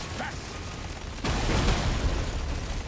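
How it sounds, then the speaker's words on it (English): Explosions in the video game Deep Rock Galactic: Survivor burst out suddenly and stay loud, a dense rumbling blast over game sounds, with no talk. "Nice explosions."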